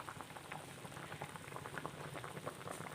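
Kerala fish tamarind curry in coconut oil bubbles steadily in a pot over a low flame, a dense, continuous simmering crackle with soft popping bursts, close and even throughout with no voices.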